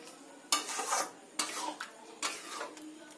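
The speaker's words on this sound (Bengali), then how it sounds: "ভালো করে নেড়ে চেড়ে নামিয়ে দিতে হবে" Tadka dal in a pan with a half spoon of ghee just added and the heat switched off, stirred in three quick scraping strokes against the metal, each followed by a soft fading sizzle.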